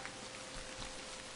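Steady, soft rain from a rain-making device falls as a continuous faint hiss with scattered droplet ticks, no voices present.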